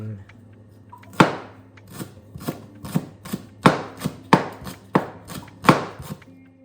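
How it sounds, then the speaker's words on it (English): A knife chops spring onion and thyme on a board: about a dozen crisp, close strikes at an uneven pace over a quiet background hum. "Now I'm going to chop those spring onion,"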